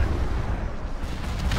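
Continuous heavy bombardment in a Star Wars strategy video game, dense roaring explosions and booming artillery blasts merging into one loud, unbroken rumble.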